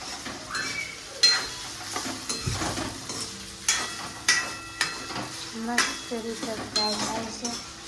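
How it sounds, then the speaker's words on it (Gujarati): Potatoes and peanuts fry in a pan, with a soft sizzle under repeated scraping and clinking of a spoon against the pan throughout. "જો હવે આનો આપણે ફ્રાય થવા દઈશું."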